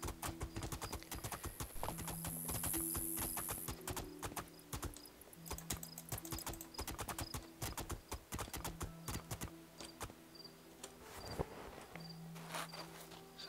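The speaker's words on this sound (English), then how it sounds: "There we go, our first minor horse race" Horse hooves gallop in the fantasy role-playing game Two Worlds 2, a steady rapid clip-clop running throughout, close and prominent over a faint insect-like chirp and game music tones.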